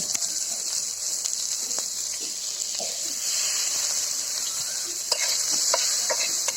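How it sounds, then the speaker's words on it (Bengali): Green mango pieces fry in oil with mustard seeds, turmeric and salt, making a bright steady sizzle close by, with intermittent stirring scrapes and no speech. "আমটা ভাজা হয়ে গেল"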